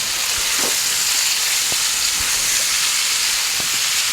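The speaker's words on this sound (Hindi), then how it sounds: "अब इसमें आप ऐड करेंगे बॉइल्ड पोटैटोज़ है मेरे पास" Boiled potato cubes hit a hot pan of frying spice mixture, giving a loud steady sizzle and hiss with a few light clinks of a utensil against the pan.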